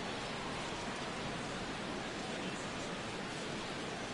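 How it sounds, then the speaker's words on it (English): Rain falling steadily on a baseball ballpark during a Jays vs Tigers game, a constant even hiss of drops with no breaks, moderately loud and alone. "Rain continues to fall here in the 6th."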